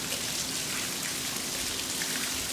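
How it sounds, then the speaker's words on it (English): Steady rain falls outdoors as a light summer thunderstorm moves in, a continuous dense hiss of drops on surfaces at even loudness with no thunder or voices. "so nice little bit of rain, little thunderstorm moving in"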